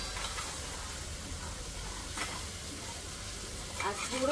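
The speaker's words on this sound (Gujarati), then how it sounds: "એ મસાલો બી શેકાવા લાગી ગયો છો ફટાફટ, કેમ કે આપણું તેલ ને કઢાઈ ને બધું ગરમ છે ને એકદમ સુપર હોટ" Masala spices roasting in very hot oil in a kadai, a steady close sizzle with occasional stirring scrapes and rising spits toward the end.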